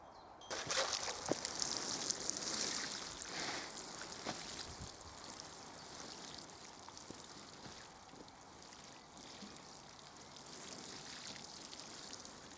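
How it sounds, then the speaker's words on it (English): Transplanted vegetable seedlings at an allotment are watered, a trickling, pouring spray that starts loud and close then settles into a softer steady patter. "I just need to water them now."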